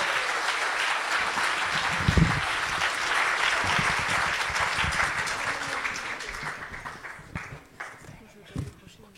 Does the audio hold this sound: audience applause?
yes